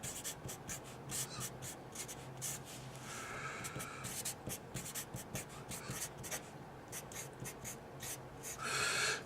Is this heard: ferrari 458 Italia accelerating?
no